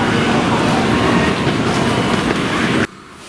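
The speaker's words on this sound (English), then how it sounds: "The bullet train looks very sleek." Japanese bullet train at Hiroshima station: a loud, steady rolling rumble with clattering wheels that cuts off abruptly near the end.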